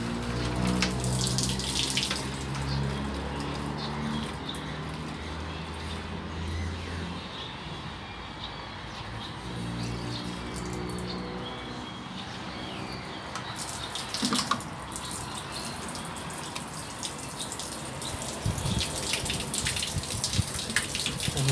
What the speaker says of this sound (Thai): น้ำไหลแล้วนะครับ